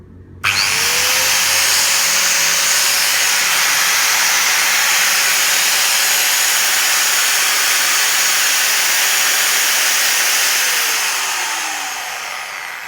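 A Makita 9553B electric angle grinder starts with a sharp jump and runs steadily at a loud, high whine for about twelve seconds, then slowly begins to wind down near the end.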